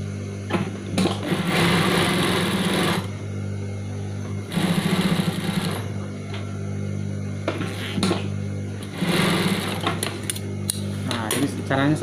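A sewing machine stitches in a zipper on a skirt, running in loud buzzing bursts of a few seconds with short pauses between them, while a steady low hum continues throughout.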